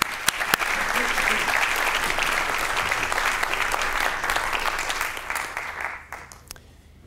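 An audience in a hall applauds to welcome Dr. Thomas Edwards at a NASA Ames talk, with dense, steady clapping from many hands that holds for several seconds and then tapers off toward the end.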